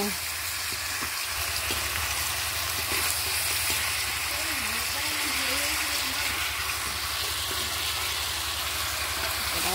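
Chicken meat frying in oil over a fire on a cold day makes a continuous close sizzle with a low rumbling hum underneath, while a voice talks softly over it.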